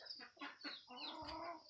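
Chickens and chicks feeding on rice bran at a small new poultry farm, with close clucking and peeping calls in short bursts that run together near the end.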